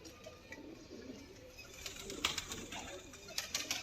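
A prized pet pigeon coos softly in a home loft, low murmuring calls repeating under faint background sounds and occasional sharper noises, fairly quiet and close.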